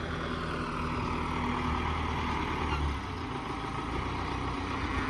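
An MTZ 892 tractor engine runs at a steady, low rumbling drone close by, hauling manure with a PRT-7 trailer, continuous and unbroken with no voices.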